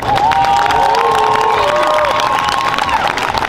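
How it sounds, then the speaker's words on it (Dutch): A loud, dense crowd at a carnival prince and ladies-in-waiting ceremony cheers and applauds steadily, with shouts and high whooping voices rising above the roar. "geef nog één keer een enorm applaus"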